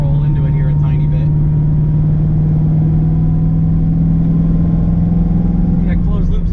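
An Infiniti G35 with a swapped LSA V8 cruises in sixth gear while its engine rolls up from about 2,000 to 2,500 rpm, a loud steady low drone inside the cabin, with someone talking over it.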